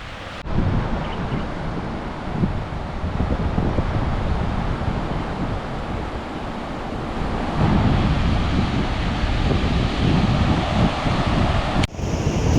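Steady roar of sea waves on the Konkan coast with gusting wind buffeting the microphone, continuous and fairly loud throughout.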